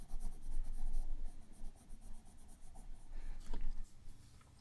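Colored pencil shades across paper with light pressure in steady back-and-forth strokes, a close, scratchy rubbing that pauses briefly midway and then resumes.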